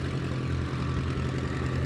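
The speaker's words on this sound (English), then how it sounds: "Listen to that engine." A vintage race car engine rumbles steadily with a deep, throaty idle, heard fairly close amid outdoor noise at a motorsports reunion pit area.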